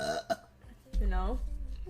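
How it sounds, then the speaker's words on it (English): A drawn-out belch from a person burping on purpose, a low rumbling, voiced burp close to the mic lasting about a second, following a moment of talk. "Why am I burping so much?"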